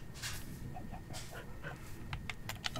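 A Minecraft dog pants and whimpers faintly in short breathy bursts, with a few soft yips near the end, heard alone at low level.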